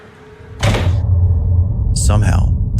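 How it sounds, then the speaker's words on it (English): Two doors swinging open at once indoors, a sudden loud rumbling bang followed by a sustained low rumble and a second clattering burst near the end. "Somehow, the two doors open on their own, seemingly at the same time."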